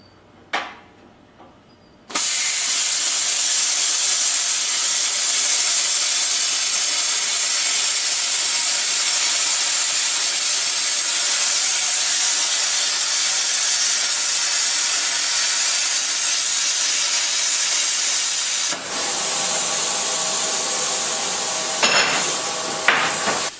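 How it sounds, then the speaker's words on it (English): Steel welding plate being cut into strips with a power tool, a loud, sustained broadband hiss and roar that runs without a break for about sixteen seconds, then drops in pitch and stops, with no talking. "we'll start busting up that plate into some strips"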